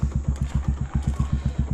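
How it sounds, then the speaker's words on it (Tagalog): A motorcycle engine idles while warming up, close and steady, with a regular thumping pulse of about eight beats per second and no voices. "sakto pinapainit na lang natin yung makina nang makalabas na ako mga Kanoypi"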